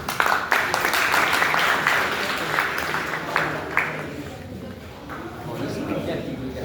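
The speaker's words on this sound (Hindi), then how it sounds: "ताली एक बार बजा दीजिए।" Scattered audience clapping at a children's science project presentation in Bihar, a dense patter of hand claps over the first few seconds that thins out, with a faint murmur of voices underneath.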